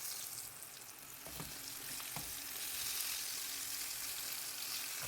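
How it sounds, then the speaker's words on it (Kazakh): Pieces of eggplant deep-frying in hot oil for a crispy eggplant salad, a close, continuous dense sizzle and crackle with no talk. "осылай бауырсақ сияқты қызып тұрған майға қуырып ала береміз"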